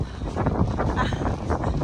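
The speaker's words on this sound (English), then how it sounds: "it's snowing, and it's so freaking windy" Steady, heavy wind with snow buffeting the microphone on a lakeside loop trail near Many Glacier Hotel, a constant low roar and rumble, continuous throughout with no clear voices.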